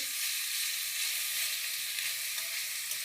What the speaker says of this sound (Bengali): লাউ ছোলা সর্ষে ফোড়ন দিয়ে কাঁচা লঙ্কা ফোড়ন দিয়ে রান্না করছি